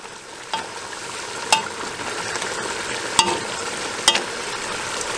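Ground beef cooking down with tomato and onion in a pan gives a continuous close sizzle, punctuated by a handful of sharp utensil clacks and scrapes as it is stirred.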